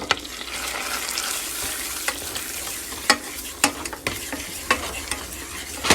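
A wooden spoon stirs coconut pound cake batter with sugar in a bowl, close and moderately quiet, with a smooth scraping texture and a few sharper knocks of the spoon against the bowl.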